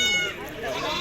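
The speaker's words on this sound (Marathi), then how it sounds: "इकडं मोठ्या शेळ्या मापाच्या काटेवाडी शेळ्या" Katewadi goats bleating at a busy village goat market, a wavering nasal cry up close over crowd murmur and a voice talking.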